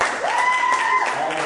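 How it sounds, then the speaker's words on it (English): A live comic-convention audience at Denver Comic Con 2017 applauds for a podcast recording, a dense, steady wash of clapping lasting about a second and a half, with a ringing tone hanging over it. "Give yourself a round of applause as we get echo."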